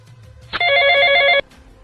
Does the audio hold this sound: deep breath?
no